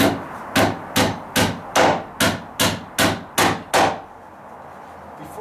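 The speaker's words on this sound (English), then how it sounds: "Now I can put my big fat nail in at the bottom here." Ten sharp hammer blows drive a large nail into a joist hanger on a deck repair, struck in a quick, even rhythm, close and loud, then stopping.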